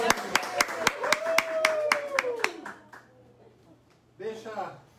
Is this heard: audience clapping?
yes